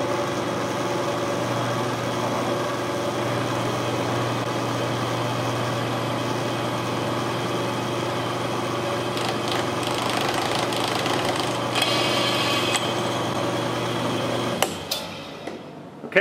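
A Tapmatic tapping head cutting threads into a knife handle slab gives a steady mechanical drone with a continuous low hum, growing rougher and ratchety near the end before stopping abruptly.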